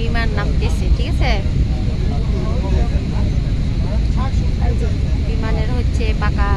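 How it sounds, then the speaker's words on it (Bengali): An airplane descends to land at Dhaka airport, its engines a loud, continuous roar heard from inside the cabin under people talking. "এখন বিমান নামতেছে"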